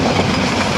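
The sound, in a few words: passenger train running on rails, clickety-clack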